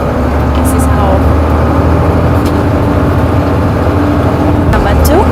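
A truck in South Sudan pulls away after its handbrake is released, a steady low engine rumble building gradually, with voices talking over it.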